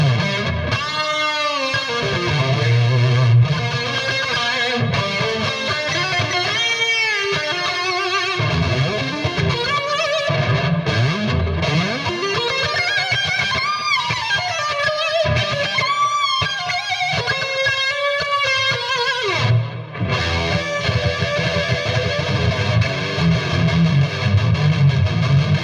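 Distorted electric lead guitar practicing solos, with fast continuous runs, bends and sustained notes played loud and close throughout, with no voices.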